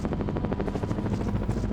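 A helicopter in Ghost Recon Advanced Warfighter thumps with a steady, rapid rotor beat, loud and close throughout a short burst.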